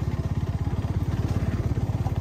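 A motorcycle ridden along a road on a ride in Meghalaya, its engine thumping in a fast, steady low pulse throughout, fairly quiet and without talk.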